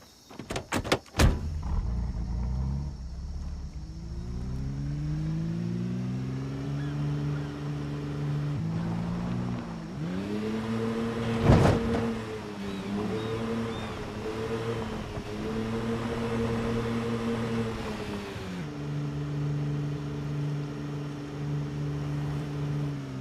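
A truck engine in the survival game Project Zomboid, starting with clunks, then a steady motor hum that rises and falls as it revs and shifts, with a sharp knock midway, heard close and alone.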